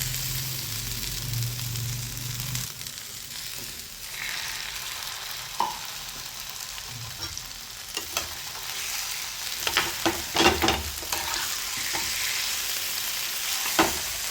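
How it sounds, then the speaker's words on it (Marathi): Potatoes sauté in hot oil for a village-style potato thecha, a steady moderate sizzle that runs throughout, broken by occasional clacks and scrapes of a spoon stirring in the pan, with no voices. "हे छान परतून घ्यायचे आहे"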